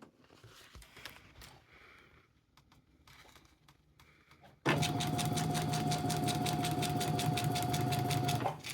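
A sewing machine stitching fabric starts abruptly after a few seconds of quiet handling noises, then runs loud and steady with a fast, even needle rhythm until it stops.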